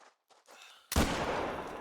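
A single loud hunting rifle shot rings out in theHunter: Call of the Wild at a hunting area, sharp onset followed by a long rolling echo after a few faint quieter sounds.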